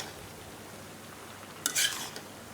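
Chopped Malabar spinach tossed into a pan of cooked jackfruit seeds for a coconut curry, then stirred, giving a short burst of sizzling and scraping near the end after quiet kitchen background.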